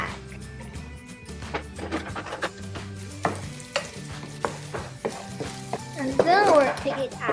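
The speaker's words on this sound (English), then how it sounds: "let's fry some egg" Eggs seasoned with chili pepper and salt fry in an oiled pan, a soft sizzle under clinks and scrapes of a utensil against the pan, with a brief voice at the start.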